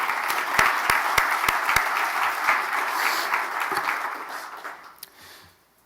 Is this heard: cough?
no